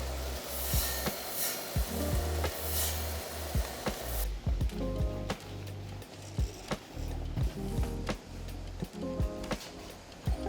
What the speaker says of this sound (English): It's gonna get loud because he's gonna turn on the vacuum loader